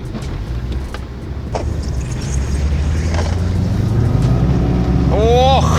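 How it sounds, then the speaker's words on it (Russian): A Subaru Forester Turbo's engine roars steadily and builds as it accelerates on ice and snow, loud and close, with rising whine near the end and some rumble underneath. "на льду, вот, цепляясь в этот снег, машина реально очень-очень быстро разгоняется"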